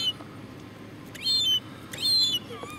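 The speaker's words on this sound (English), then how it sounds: "Ah, seagulls." Seagulls call with two loud, close, rising squeals over faint background noise, followed by a softer call at the end.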